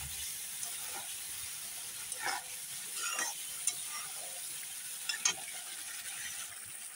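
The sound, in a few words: masala spice paste frying with salt, stirred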